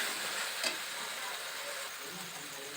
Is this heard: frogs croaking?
no